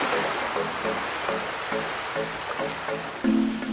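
Strong sea waves wash steadily against a rocky island shoreline below a view deck, a constant surf hiss at moderate distance with a brief louder swell near the end.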